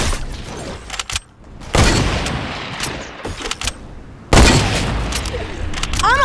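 Sniper rifle shots in the Fortnite shooter game: two loud, sharp blasts with booming tails ring out a few seconds apart, with fainter game effects and a couple of smaller cracks between them.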